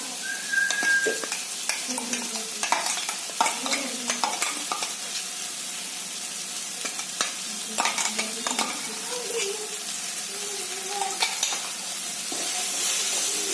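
Tomatoes being stirred together with a ginger, garlic and coconut masala paste in a pan, with a steady sizzle and repeated scraping strokes of the spoon throughout, close and moderately loud, no talking.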